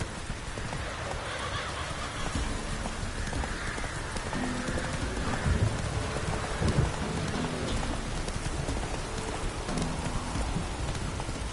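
In the Witcher 3 video game, a horse gallops through steady rain with a soft clip-clop of hooves, a brief whinny, and a low rumble of thunder, all under a dense, continuous hiss of rainfall.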